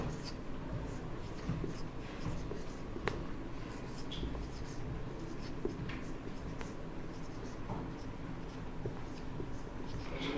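A pen scratches steadily across paper for about ten seconds during an accounting lesson, with short strokes and taps over a constant low room hum and no talking.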